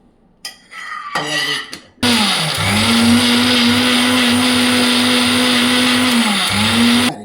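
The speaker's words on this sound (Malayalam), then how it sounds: "അതിനെ മിക്സിയിലിട്ട് അരയ്ക്കണം" A mixer grinder blends cooked chaya greens for soup, starting with a few clunks and short rattles, then a loud steady motor whine for about five seconds that dips briefly before cutting off.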